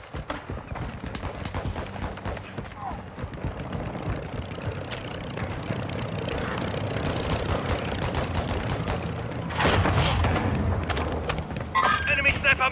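Gunfire in the video game Call of Duty Warzone 2.0, heard as a dense run of sharp cracks and booms through the clip, with a louder burst near the end over constant game background noise.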